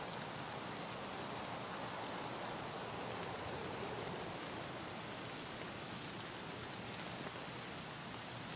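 Steady, dense rain hisses without a break in the Escape from Tarkov game world, an even, enveloping downpour that fills the whole stretch with no voices over it.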